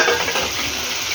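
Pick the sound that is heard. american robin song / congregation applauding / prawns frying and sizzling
prawns frying and sizzling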